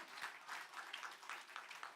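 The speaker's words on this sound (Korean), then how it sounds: "박수 한번 쳐주세요." Faint, rhythmic clapping from a church congregation, keeping a steady beat of roughly four claps per second for children reciting scripture during a Sunday service, with no voices heard over it.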